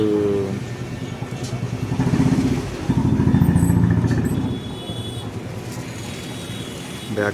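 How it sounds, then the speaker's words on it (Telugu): A heat gun blows with a loud, whirring rush of air that builds, holds, then eases back to a steady hum, used on AC cooling film for Santro Xing car glass. "ఇక్కడ ఒకటి హీట్ గన్ వాడుతుండు"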